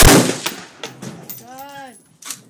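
Several loud, sharp AR-15 rifle shots crack close by at an outdoor shooting session, spaced irregularly, with short bursts of excited voices between them.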